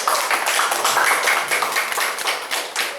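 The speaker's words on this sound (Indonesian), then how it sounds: "ayo semua kita beri tepukan" A crowd applauding at a retirement ceremony, dense overlapping claps that stay steady and fairly loud for a few seconds.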